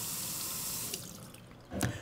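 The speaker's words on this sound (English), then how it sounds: "First, you're going to see the typical faucet. Look at the amount of overspray." Water gushes steadily from a typical kitchen faucet into a sink, a continuous hiss with splattering overspray, briefly easing before a louder splash near the end.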